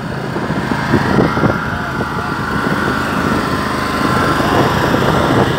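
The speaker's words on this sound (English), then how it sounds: "You've got generators and everything going," Generators running at an outdoor rockabilly car show at a hotel, a steady buzzing engine drone that stays loud and constant, with crowd noise faintly mixed in.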